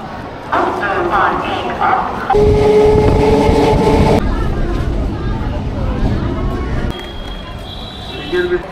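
A suburban train runs at Bandel station with rumbling carriages and a piercing horn mid-way, while a dog barks nearby and a person talks over the noise.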